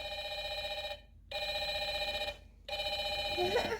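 VTech Alphabet Activity Cube toy phone rings in two electronic trilling bursts separated by short pauses, close and loud, with a third burst starting at the end.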